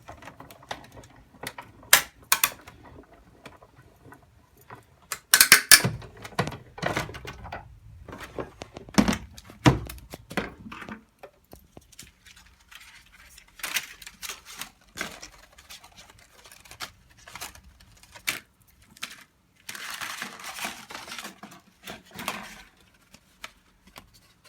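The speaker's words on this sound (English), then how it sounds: "I'm gonna go ahead and run this through my cutting machine" An electronic cutting machine slices a paper flipbook shape, producing rapid irregular clicking and tapping bursts with brief whirring motor passes, close and fairly loud, pausing intermittently over a long stretch.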